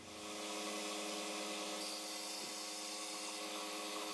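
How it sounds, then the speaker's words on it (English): A power drill bores a large clearance hole for a 10-32 screw through a hose clamp part, giving a steady, sustained whine that runs alone for several seconds. "we're going to drill a large clearance hole for the 1032 screw that goes through this one"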